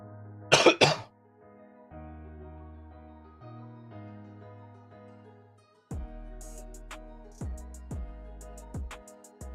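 A man gives a short, harsh burst of coughing near the start, then it fades to quiet background sounds with a few soft knocks later on.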